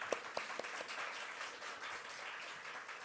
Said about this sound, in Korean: 우리 두 형제들 감사 박수하겠습니다.